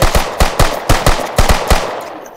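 Rapid gunfire in a Roblox shooter game: about ten sharp, loud shots in a quick, slightly uneven burst, close and dry, with no voices over them.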